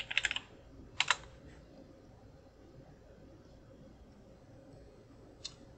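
A few quick bursts of keystrokes on a computer keyboard entering a search, clustered near the start with a single tap near the end, quiet room hum between.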